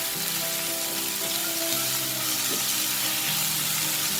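Bean sprouts stir-frying with fried salted fish and a dash of white pepper, giving a steady, moderate sizzle with light stirring, heard under soft background music.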